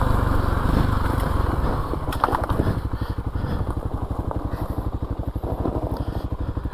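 Dirt bike engine droning steadily near the rider on a timed woods loop, a Kawasaki KLX 300, throttle easing slightly as the pace slows, with a choppy rhythmic engine pulse throughout.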